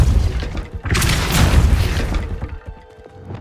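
A Depulso spell blast in Hogwarts Legacy sounds as a loud, booming magical burst with crashing debris. It rumbles for about two seconds and then fades.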